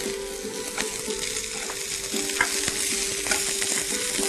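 Three-colour capsicum is stir-fried in a pan, a steady loud sizzle with light scraping stirs and a faint hum underneath.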